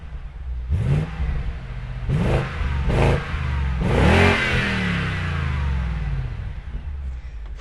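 A BMW car engine cranks in several short bursts, then catches and revs up loudly before settling into a steady, fairly close idle.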